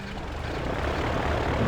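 Fighter planes launch from an aircraft carrier in the naval strategy game Victory At Sea Pacific, with a steady, loud propeller engine drone that builds slightly and has no talk over it.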